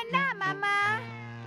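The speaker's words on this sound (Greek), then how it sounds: "Το νιαούρισμα της γάτας." A cartoon cat meows in an animated children's show, giving a few drawn-out, rising and falling cries close up, with no other sounds around them.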